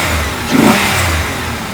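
A cheap $400 used car's engine, running rough, loaded with fuel and missing, revs up once and settles back to a rumbling idle, loud and close with no talking.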